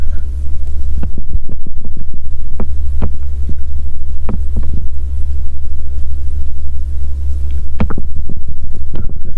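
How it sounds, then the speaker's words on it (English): Household furnace running in a farmhouse room, a loud, steady low hum and rumble continuing throughout, with faint scattered ticks and small knocks on top and no talking. "If you hear any noises, it's either my furnace"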